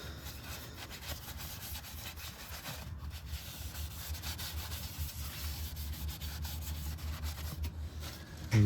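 Steady rubbing and scrubbing as a transmission part on a 2009 Scion tC is wiped clean, a continuous close abrasive scraping that runs throughout with no talk.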